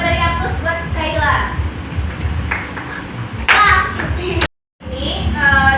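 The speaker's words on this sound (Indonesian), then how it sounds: "kita beri aplaus buat Kaila" A classroom of middle school students applauds a classmate during a lesson, with scattered clapping mixed with children's chatter and voices, a brief sharp burst, then a moment of silence before the talk resumes.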